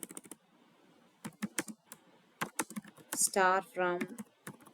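Keys clatter in quick irregular bursts as a SQL query is typed on a computer keyboard, with a short stretch of someone speaking over the tapping.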